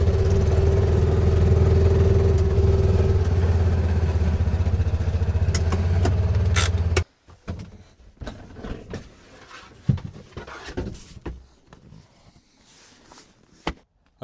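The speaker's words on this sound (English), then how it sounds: "I'm going to pull the side-by-side out, put it here in the sun" A side-by-side utility vehicle's engine runs loud and steady close by, then cuts off abruptly, leaving scattered footsteps and clunks in a quiet garage.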